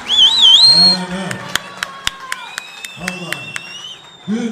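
In a wedding hall, guests give the bride and groom rhythmic, evenly spaced clapping alongside sustained melodic instrument tones and voices.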